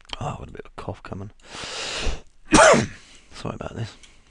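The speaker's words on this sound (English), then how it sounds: "Oh, I've got a bit of a cough coming." Someone talking close to the microphone breaks off for a brief throaty cough, with a rough, noisy burst just before it, then carries on speaking.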